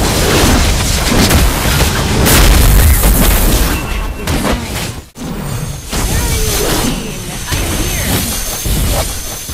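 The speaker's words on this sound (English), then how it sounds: "Our turret has been destroyed." A Mobile Legends turret blows up in a loud, booming explosion, with dense crashing game effects rolling on continuously, a brief drop near the middle, then heavy blasts resuming.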